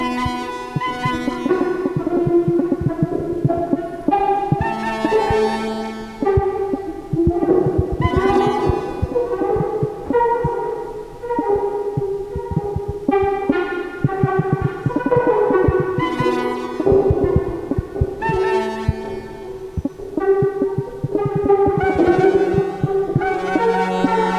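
Synthesizer music generated from plant signals, with pulsing low tones and layered harmonic chords swelling in a slow, heartbeat-like rhythm, steady and fairly loud, no talk.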